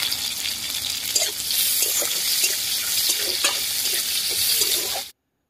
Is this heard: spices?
yes